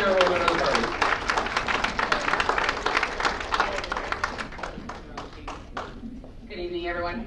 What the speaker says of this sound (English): Let's give a big round of applause to Michelle Fannin